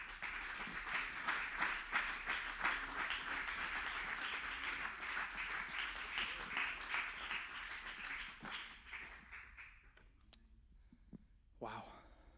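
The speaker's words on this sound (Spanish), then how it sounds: "¿Por qué no le aplaudes al Señor por un momento?" Congregation in a church applauding the Lord, a steady, dense wash of clapping filling most of the stretch before thinning out and fading, with a few scattered claps near the end.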